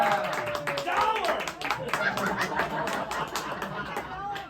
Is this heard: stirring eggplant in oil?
no